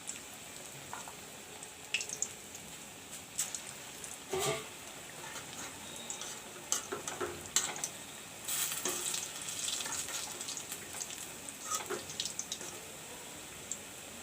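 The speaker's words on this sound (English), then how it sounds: "Refine oil to deep fry the pakoris." Pakoras deep frying in hot refined oil give a bubbling, crackling sizzle with scattered sharp pops and spits, rising into a denser, louder burst of frying midway, all close and without talk.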